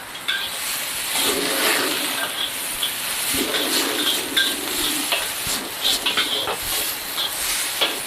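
Bean sprouts and ginger stir-fried in a pan, a continuous close sizzle and hiss with irregular scraping and stirring knocks throughout.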